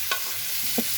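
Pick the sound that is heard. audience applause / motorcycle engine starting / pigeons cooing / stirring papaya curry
stirring papaya curry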